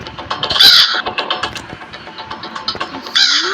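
Crows caw loudly in the Granny video game, two harsh bursts early and late among busy game sounds.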